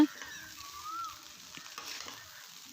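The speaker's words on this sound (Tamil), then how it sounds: "இப்போ வந்து நான் வந்து அதோட ஆட் பண்ணி நல்லா ஃப்ரை பண்ணி விட போகிறேன்" Cooked rice for egg fried rice frying and being stirred in a pan, a soft steady sizzle with light scraping and stirring sounds, fairly quiet and with no talk.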